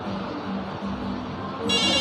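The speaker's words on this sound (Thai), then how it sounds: "เดี๋ยวผมจะลองโทรดูนะฮะโทรเข้าโทรศัพท์บ้านนะครับ" A home landline telephone starts ringing near the end, its bright electronic tone cutting in over a low background hum.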